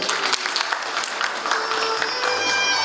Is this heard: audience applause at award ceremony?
yes